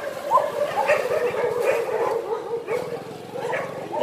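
Several dogs bark repeatedly in rapid, overlapping bursts outdoors, fairly near and loud, with yips and whimpering mixed in and a continuous agitated rhythm.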